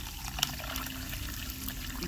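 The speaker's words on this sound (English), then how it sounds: "You remember our water? We sieve it." Cooking water pours through a sieve in a home kitchen as a soft, steady trickle and splash, quiet and partly covered by a voice talking nearby.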